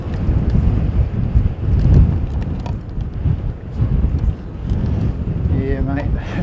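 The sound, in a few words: strong wind blowing outdoors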